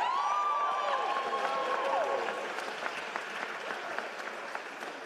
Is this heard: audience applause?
yes